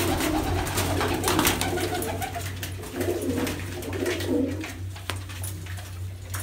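Pigeons coo steadily in a loft, several low throaty calls overlapping over a constant low hum, with faint scattered clicks and rustles nearby.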